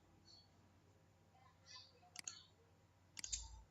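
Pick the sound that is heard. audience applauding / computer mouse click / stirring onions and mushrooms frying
computer mouse click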